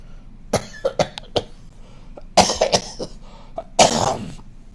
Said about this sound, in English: let me do a little cough here